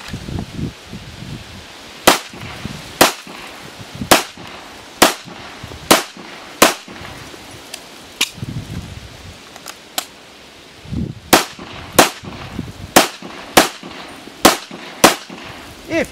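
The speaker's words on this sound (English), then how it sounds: "you go back up there and put two shots in that target" Handgun shots ring out at targets during a shooting drill, loud sharp cracks spaced about a second apart, several in quick succession, with a gap midway before another run of shots.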